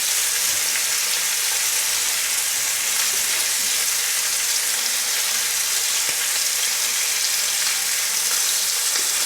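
Bacon fries in a pan over medium heat, a steady close sizzle with dense crackling and spatter that holds evenly throughout, with no voices.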